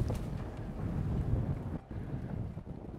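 Wind gusting across an outdoor golf course during a match, a dense, rumbling roar buffeting the microphone, with uneven surges and brief dips, no talking.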